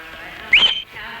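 A single short, rising whistle from a person, sharp and close, lasting about a quarter second over quiet room tone, with no speech.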